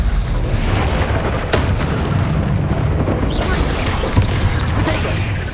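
Confringo fire-spell blasts in the Hogwarts Legacy video game, a dense, loud wash of rumbling booms and bursts that rolls on without a break, with sharper pops rising out of the din.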